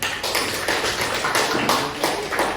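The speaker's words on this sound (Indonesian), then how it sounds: "Ya, kita kasih aplaus." A group claps hands in applause during a lesson, a steady, dense patter of claps lasting a few seconds with no voices over it.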